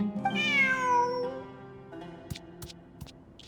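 A cat in the video game Genshin Impact meows in a long, rising-then-falling cry, followed by a few soft clicks and taps in a quiet setting.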